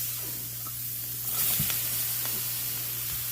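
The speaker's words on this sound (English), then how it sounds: "I'm going to go ahead and put my onions and mushrooms in here." Onions and mushrooms go into dark gravy in a pan for country fried steak, giving a soft steady sizzle over a low hum, with a few light clinks and taps.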